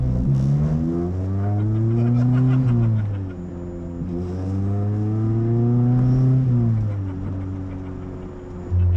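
A B18C VTEC Type-R engine swapped into a 1967 Morris Mini van revs loudly and close by, its pitch climbing and falling in a few long pulls with a brief dip between them.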